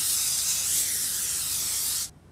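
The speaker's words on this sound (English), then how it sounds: "First, you want to spray a cookie sheet with cooking spray." Cooking spray hissing steadily from an aerosol can onto a cookie sheet, one continuous close, bright burst lasting about two seconds before cutting off abruptly.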